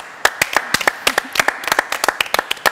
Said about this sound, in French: C'est fait et ça s'applaudit